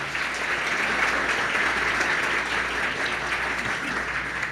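Sustained applause from a church congregation, steady and fairly loud throughout, with a faint murmur of voices underneath.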